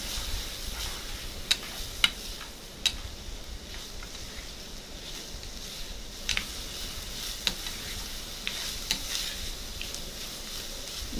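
Green chilies are tempered and stirred in hot oil for samosa filling, giving a steady soft sizzle with occasional sharp ticks of a spoon against the pan.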